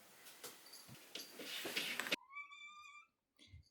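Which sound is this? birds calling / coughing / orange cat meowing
orange cat meowing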